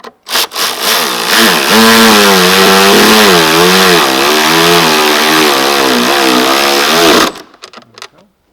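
A power tool whirs in one sustained, loud, wavering whine for about six seconds, driving 10mm bolts tight on the alternator of a 2018 Lincoln MKC 2.0L turbo four-cylinder, then stops abruptly.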